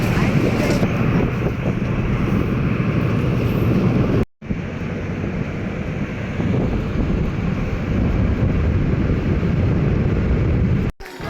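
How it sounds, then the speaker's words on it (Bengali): A passenger launch pulling away across a river toward the Rani Rashmoni ferry ghat, heard as a steady, loud engine rumble mixed with wind and water wash, continuous apart from two brief dropouts. "লঞ্চে ওঠা মাত্রই আমাদের 3জনকে নিয়ে লঞ্চ ছেড়ে দিল।"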